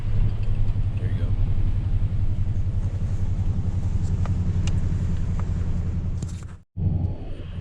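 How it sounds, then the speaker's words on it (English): Steady low engine drone and road rumble from a Toyota Tundra TRD Pro camper driving on sand along the Cape Lookout National Seashore beach, heard from inside with speech over it, cutting out briefly near the end. "This is about as close to Australia kind of beach four-wheel driving as you get in the United States."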